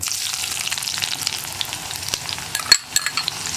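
Onion frying in oil in a pan while cooking Kerala-style chena payar mezhukkupuratti, a steady bright sizzle close by with scattered crackles and a stir clatter near the end, no talking.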